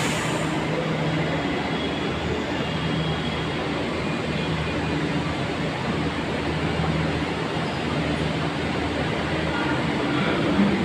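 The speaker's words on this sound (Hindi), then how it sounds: "इस समय मैं छतरपुर के मेट्रो स्टेशन पे हूँ" A steady, loud rumble of a Delhi Metro train running through Chhatarpur station, enclosed, with a constant low roar and hiss and no talking.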